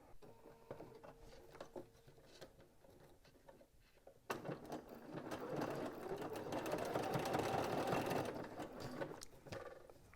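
A sewing machine fitted with a zipper foot stitches along an open zipper, starting with quiet ticks and then running in a fast, steady, close whirring burst that slows near the end.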